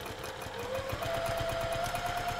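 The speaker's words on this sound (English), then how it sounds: "we're going to stitch quarter of an inch away along that top edge, right along the top there" Sewing machine stitching a quarter-inch seam along the top edge of a woven fabric purse, a steady rapid needle chatter with faint motor hum, close and moderately quiet, no talking.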